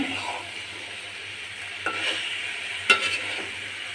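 Fish innards sizzle steadily in hot oil in a pan, with a spatula scraping and stirring through them in a few short clacks near the end; no talking.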